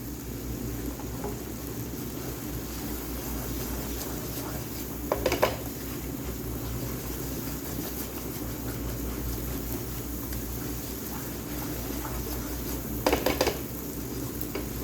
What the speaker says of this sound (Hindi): मुसलसल चमचा हिलाते रहिएगा।